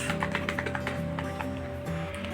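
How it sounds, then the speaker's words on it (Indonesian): Keys tapped on a computer keyboard while a database command is entered, a quick run of clicky strokes under steady background hum. "maka kita akan mengetik show databases"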